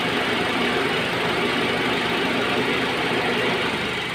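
A Honda Jazz engine idles with one ignition coil removed and misfires, giving a loud, steady, rough rumble that runs unbroken throughout with no voices.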